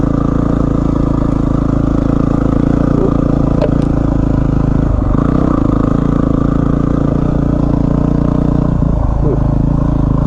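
A Yamaha WR250R motorcycle rides off-road through very loose gravel, its steady mid-pitched engine drone running continuously and loud, with occasional clattering from stones and the bike.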